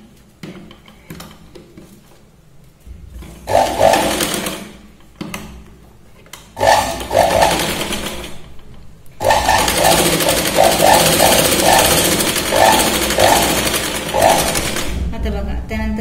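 Sewing machine stitching diagonally along the frill of a blouse in short bursts, stopping and restarting several times, with a voice talking at intervals.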